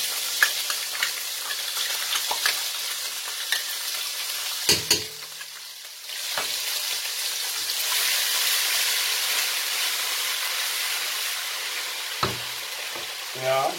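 Ginger and garlic fry in a pan for a Pakistani-style chicken curry, giving a steady crackling sizzle with stirring scrapes and a few sharp knocks of a utensil against the pan.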